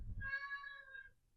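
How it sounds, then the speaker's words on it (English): A domestic cat gives a single drawn-out meow, close and clear, with no other sounds around it. "I don't know if you can hear that. That's my cat."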